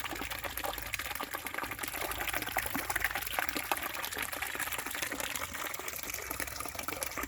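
Steady rushing and gushing of natural spring water flowing beside a creek continues throughout, constant and fairly close, with no talking.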